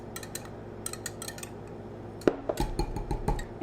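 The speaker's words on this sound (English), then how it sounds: "Just whisking it in." A cocktail mixture is whisked in a cup. Rapid clinking, scraping strokes come close and moderately loud, in busy bursts after a sharp tap midway, with no voice over them.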